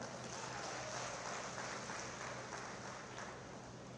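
Crowd clapping at a workshop gathering, a dense, continuous, faint roar of many hands heard from a distance with no distinct individual claps and no speech.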